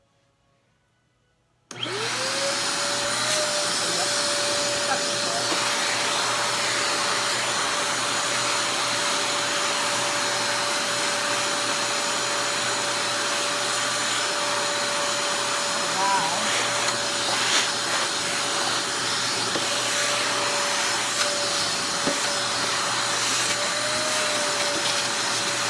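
A We R Memory Keepers wet/dry craft vacuum switches on after a brief silence and runs at a steady, loud whine with a sustained tone throughout.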